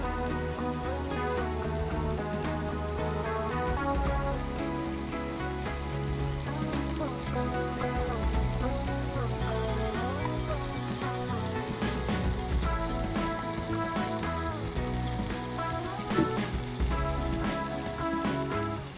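Chicken cooking in a pan on the stove, a steady sizzle and patter that runs throughout, mixed with music and no talking.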